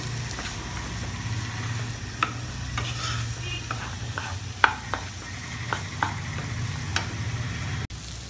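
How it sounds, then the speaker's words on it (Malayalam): Shallots sautéing in a pan for a Kerala-style mutton curry, a quiet steady sizzle under a low hum, with a spoon scraping and tapping the pan in scattered sharp strokes. "ചെറിയുള്ളി നന്നായിട്ടൊന്ന് വഴറ്റിയെടുക്കാം."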